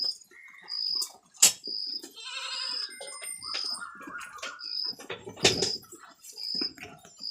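Goats on a goat farm bleating repeatedly near and far among scattered farmyard knocks and movement, with a regular electronic beep or chirp pulsing in the background; no clear speech.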